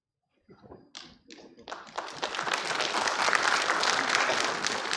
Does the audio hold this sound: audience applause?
yes